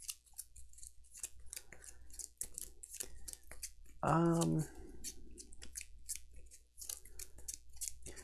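A fate card deck from the Etherfields board game is shuffled on a table in quick papery riffles and taps, with a louder burst midway, while a voice talks throughout.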